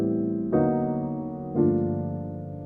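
Piano chords in a progression using a tritone substitution, three sustained chords struck one after another, each ringing and decaying before the next.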